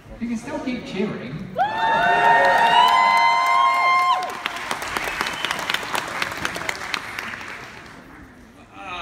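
A convention crowd at MCM Scotland 2016 cheers loudly with high whoops and shouts over steady clapping, the cheering dropping away into continued applause that fades toward the end.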